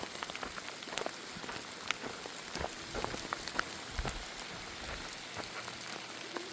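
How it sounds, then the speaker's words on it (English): Steady rain pattering on a surface in Glacier National Park, Montana, with scattered sharp drops standing out against a continuous wash of falling water, no voices. "Because it's just raining on me."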